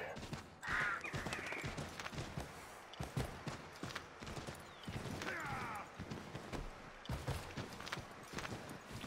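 Steady clip-clop of horse hooves at a walking pace in snowy Boston in the video game Assassin's Creed III Remastered, with occasional clanks and rustling mixed in, moderately close.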